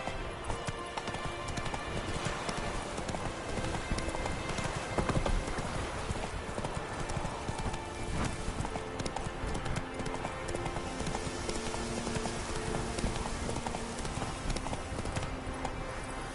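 Geralt's horse Roach gallops in The Witcher 3, a rapid continuous drum of hooves running the whole way under a dense, loud wash of game music and ambience, with no pause or letup.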